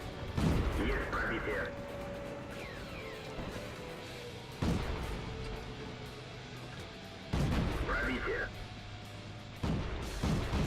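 Tank cannon fire in a video game from a T 127 tier 3 premium light tank; four loud booming shots spaced a few seconds apart, each followed by a clanking reload and a lingering rumble.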